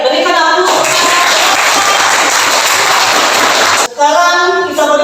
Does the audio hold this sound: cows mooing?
no